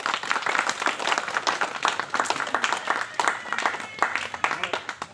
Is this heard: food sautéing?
no